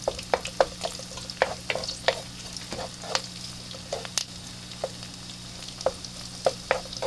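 Garlic frying in oil for Bikol express, with a spoon clicking and scraping against the pan in irregular strokes over a low, steady sizzle, close and moderately loud.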